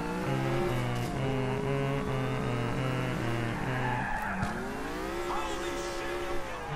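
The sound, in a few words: car driving and skidding in video game GTA IV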